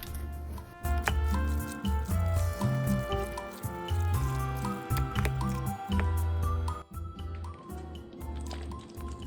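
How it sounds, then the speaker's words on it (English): Wet squishing and sloshing as seasoning liquid is poured over raw chicken and mixed by hand, steady and close, with a faint musical backdrop. "I'm just going to pour this in and then do some mixing"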